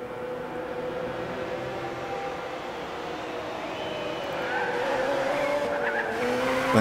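Toyota hybrid prototype race car at Le Mans in Gran Turismo 6, a steady loud engine drone with tires skidding and squealing as it works through fast corners, growing louder toward the end.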